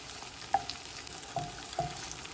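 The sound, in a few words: chopped garlic frying in pan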